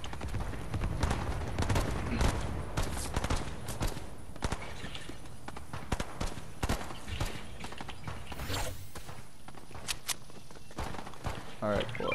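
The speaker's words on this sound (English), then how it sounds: "Who's shooting at me?" Video game gunfire in a squad battle match, rapid overlapping shots and bursts with footsteps, loud and constant, while players talk over the action.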